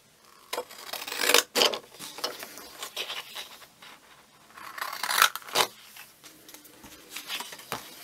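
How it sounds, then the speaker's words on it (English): Deckle-edge craft scissors snip through paper for making stamp shapes, giving a few close, crisp cutting and rasping strokes in separate bursts, with quiet pauses between them. "I'll get my deckled edge scissors"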